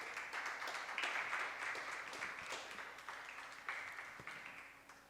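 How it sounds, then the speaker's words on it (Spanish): Faint applause from a church congregation, a steady patter of clapping heard from a distance with a soft background hum. "Dale un aplauso al Señor, por favor."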